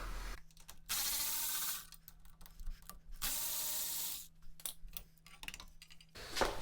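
Bolts being removed from chrome trim on a Jeep, heard as bursts of ratcheting and mechanical clicking separated by short pauses, close by and moderately loud, with a steady low hum underneath and no talking.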